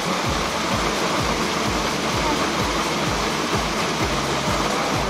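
Waterfall on a hiking trail in Koh Samui pours in a loud, steady broadband rush that fills the scene, with no voices standing out.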